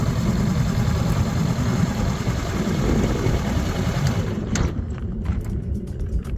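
A motorcycle engine idling on a winding mountain road in Crete, giving a steady, close, loud rumble with a constant low drone and no voices.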